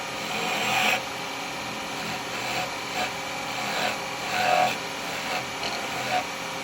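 Carbide tool cutting a spalted beech lidded box on a wood lathe, a continuous close scraping and rasping that swells and eases in short surges.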